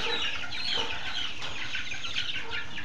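Gamefowl chickens at a gamefarm clucking softly and steadily, a dense low chatter of several birds at some distance over constant background hiss, with no talking.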